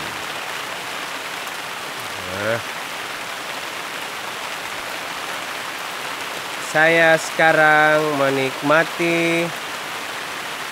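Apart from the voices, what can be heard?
rain falling in a garden plantation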